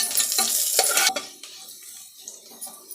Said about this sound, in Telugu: ఇప్పుడు ఎండుమిరపకాయ, తెల్లగడ్డ, ఇంగువ వేసి ఫ్రై చేసుకోవాలి